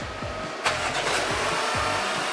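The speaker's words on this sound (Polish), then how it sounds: "Zobaczcie, auto pracuje z pierwszego strzału, bez najmniejszego problemu." A car engine cranks with rapid starter pulses, catches on the first try with a sharp burst, then settles into a steady idle.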